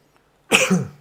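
A single short, close throat clearing by a man, a rough cough-like burst lasting about half a second in an otherwise quiet room.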